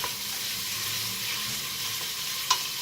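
Onions, garlic and peppers frying in a pot give a continuous close sizzle while being stirred, with a sharp utensil clink near the end and no speech.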